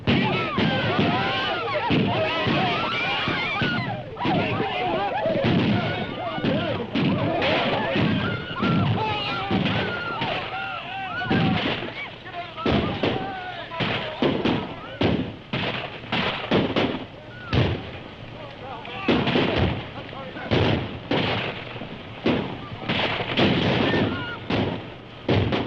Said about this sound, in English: You're firing too high.